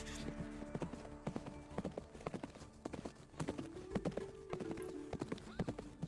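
Video game horse hooves clip-clop in a quick, even rhythm close by, with a drawn-out whinny rising midway through the steady hoofbeats.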